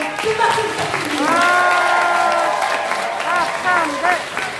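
Applause from a crowd at a political rally in a hotel in Incheon, steady clapping beneath a loud amplified announcer's voice speaking over it throughout.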